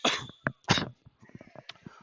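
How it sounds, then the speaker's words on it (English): A commentator coughs during a junior varsity volleyball match: three harsh, close bursts in quick succession, then softer throat noises trailing off. "sorry for my coughing"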